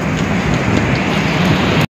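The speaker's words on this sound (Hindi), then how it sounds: "पूरा बारिश गिर रहा है।" Heavy rain pours down during a windy storm, a steady dense hiss close by that holds evenly for nearly two seconds before cutting off abruptly.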